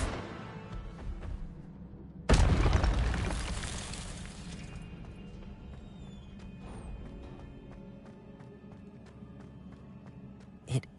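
A fire spell cast in a video game: quiet ambient hum, then a sudden loud crashing burst at about two seconds that roars and slowly fades over several seconds, with a faint sharp pop near the end.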